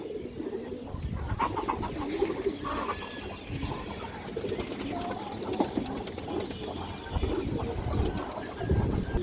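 Pigeons cooing indoors, soft repeated coos under a steady background of rustling and mechanical ticking, fairly faint and close.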